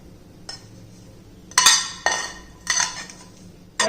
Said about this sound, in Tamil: இதையும் நல்லா எல்லாத்தையும் மிக்ஸ் பண்ணிக்கிடுவோம் மாவோட